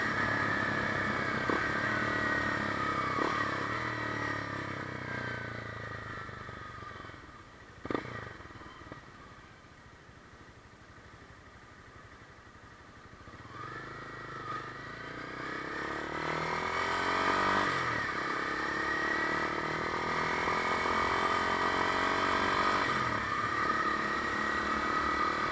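Honda CB300F with a Yoshimura exhaust cruising at highway speed around 55–60 mph, a steady droning engine hum with a brief dip and swell as the revs change, heard close and continuous with no speech.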